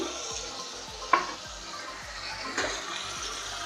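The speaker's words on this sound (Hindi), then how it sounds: "गरम मसाला डाल के चलाते हैं ताकि गरम मसाले की अच्छी सी खुशबू आ जाए कीमे में" Whole garam masala (bay leaves, cinnamon pieces, black cardamom, cloves and black peppercorns) stirred through beef keema frying in a pan, giving a steady sizzle with scraping stir strokes and a couple of sharper clinks.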